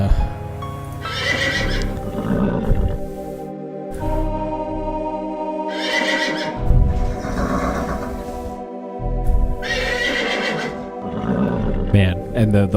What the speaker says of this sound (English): the horse noises certainly aren't making this any easier